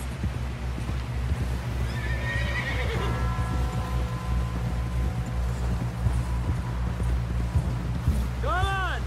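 Horses in Red Dead Redemption 2, with a loud whinny and steady clip-clop of hooves under music, plus a second neigh near the end while voices speak.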